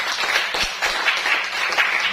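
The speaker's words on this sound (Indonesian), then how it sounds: "Tepuk tangan untuk kita semua." Students in a mathematics classroom clap together in a steady burst of applause, filling the room evenly with little talk over it.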